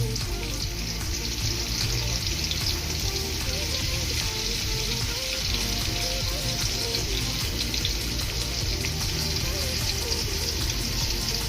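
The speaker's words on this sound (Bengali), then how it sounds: "এটা ভালো করে আমি ভাজি করে ফেলব" Fish and potatoes fry in a pan with raw turmeric and salt, giving a steady, dense sizzle that stays loud and even throughout with watery crackle and no talk.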